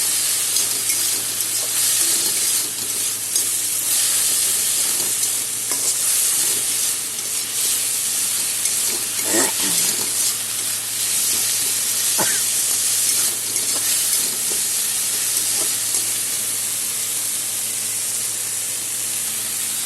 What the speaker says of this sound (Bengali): মোটামুটি ভাজা হবে, তারপরে আমি মসুর ডালটা দিয়ে দিলাম।